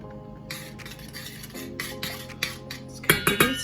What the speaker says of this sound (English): Just kind of give it a stir.